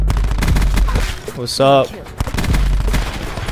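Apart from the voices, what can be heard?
gunshots in a first-person shooter video game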